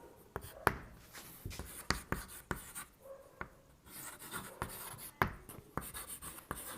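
Handwriting a chemical reaction for an ether chemistry lesson, a steady run of quick scratchy pen strokes and taps, close and clear, with no speech over them.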